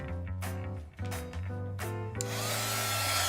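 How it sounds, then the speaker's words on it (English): A heat gun sets embossing powder on resin bookends. Its steady, broad blowing hiss switches on partway through and runs to the end, over tonal background music. "Now we're gonna set the powder with our heat gun."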